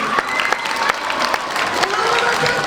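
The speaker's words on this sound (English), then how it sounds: "stand up for one more round of applause" Steady, loud applause from a school audience at a strings concert, many hands clapping densely with some crowd murmur and a voice underneath, continuous throughout.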